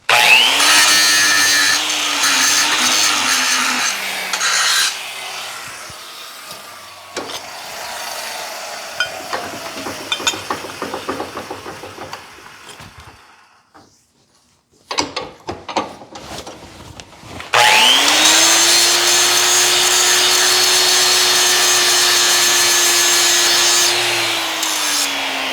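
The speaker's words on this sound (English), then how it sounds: "Touch it up with the grinder a little bit." An angle grinder whines loudly against steel plate, stops and spins down, then scrapes and rattles briefly before roaring up again for a long steady pass.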